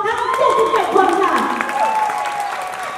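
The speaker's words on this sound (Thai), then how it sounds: "เสียงปรบมือให้กับพวกเขาทั้ง77คนค่ะ" An audience at the Mister Supranational Thailand 2017 show claps for 77 male performers, a steady wash of applause running beneath a voice talking over it.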